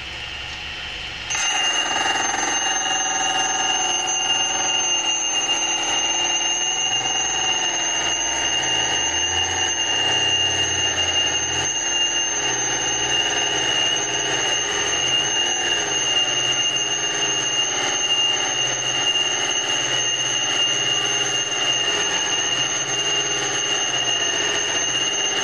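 A DC motor grinding wheel grinds a flat on an end mill, giving a loud, steady, high-pitched whine and squeal that starts after a short quiet moment and carries on unbroken.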